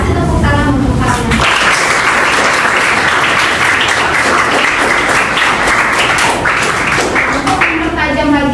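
Classroom students applaud together in a dense, steady burst of clapping lasting several seconds, with voices talking faintly at the start and end.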